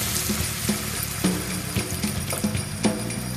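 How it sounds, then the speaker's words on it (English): Chicken stock poured into a pan of vegetables for stuffing, a sizzling, bubbling splash with irregular ticking pops and clicks, close and fairly loud, with no voices. "What I'm going to use is chicken stock. I'm going to pour a little of this in."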